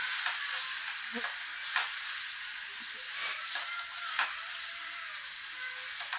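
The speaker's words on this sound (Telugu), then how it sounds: "శుభ్రంగా కలుపుకోవాలండి" A ridge gourd and sea prawn curry stirred in a pan, a continuous sizzling hiss broken by intermittent scrapes of the spoon, close up and steady with no voices.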